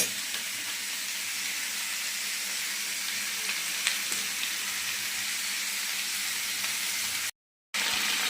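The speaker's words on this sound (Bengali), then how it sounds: "এই যে দেখো আমার ভাজাভাজি অনেকটা হয়ে গেছে" Mixed vegetables for a vegetarian dish frying in a pan, giving a soft, even sizzle that runs steadily at moderate distance, cut by a brief moment of silence near the end.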